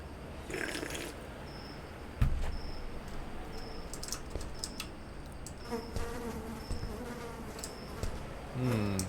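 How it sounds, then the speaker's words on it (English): Flies buzz around trash in a dirty building within a horror adventure game, a faint, persistent droning whine with small clicks and drips over low ambient noise. "Flies buzzing. I hear that."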